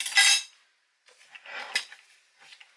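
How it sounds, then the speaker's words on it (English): Egg shells cracking and tapping against a bowl while sorrel and beetroot fruit cake batter is made, with one sharp crisp crack first, then softer crackling and a couple of light taps. The sounds are close and moderately loud, and no one speaks. "So break another egg"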